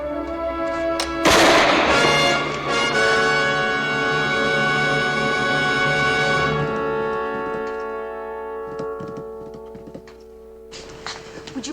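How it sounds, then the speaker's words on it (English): A single loud gunshot cracks out in a Western frontier drama, followed by a long ringing tonal decay and a later burst of sharp noise. "I imagine the report you heard a moment ago may have sounded like gunfire. It was gunfire."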